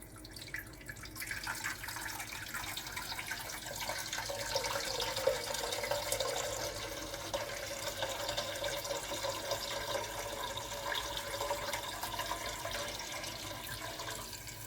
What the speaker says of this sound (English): the next step is we're gonna fill our tank to the beam